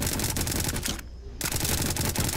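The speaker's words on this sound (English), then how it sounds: "Let me get my Uzi here, and then I just press 6," Rapid automatic Uzi gunfire from the Roblox game Jailbreak at a gun store practice range, loud dense bursts filling the stretch with a short pause near the middle before firing resumes.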